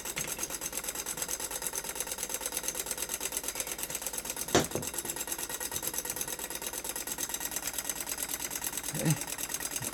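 A small magnetic pole flip motor running at speed, a fast steady mechanical whir with dense rapid ticking, close and even, with a couple of brief knocks.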